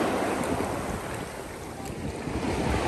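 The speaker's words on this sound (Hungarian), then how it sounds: "egyre durvábbak a hullámok" Rough sea waves off Antalya roar in a steady, broad wash, loud and continuous, with wind buffeting the microphone and no voices.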